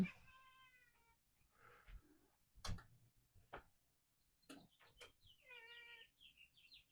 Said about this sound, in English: Our cat is in the window. He's meowing.